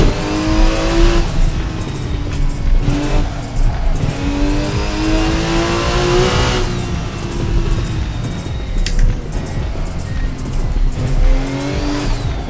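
A Porsche 936 race car engine on a hot lap through vintage street-track roads around Napoli revs hard and drops with each gear shift, its rising and falling pitch loud and close, with tires squealing through the corners.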